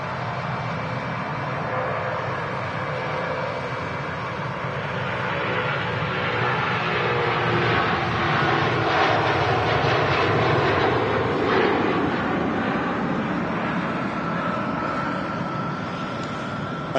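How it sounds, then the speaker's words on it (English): Virgin Atlantic Airbus A330 rolling along the runway at Manchester Airport on departure to Atlanta, its jet engines a steady, loud broadband roar that swells slightly midway and holds throughout with no talk. "Rolling on the runway, the A330 out to Atlanta from Virgin Atlantic."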